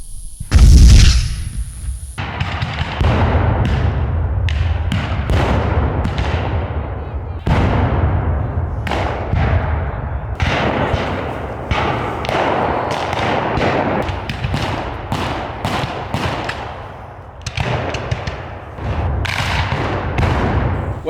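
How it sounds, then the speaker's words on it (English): Civil War battle artillery: big guns boom continuously in a dense, overlapping barrage of heavy blasts and rumbling thuds, with gunfire crackling throughout. "Those big guns sure are powerful."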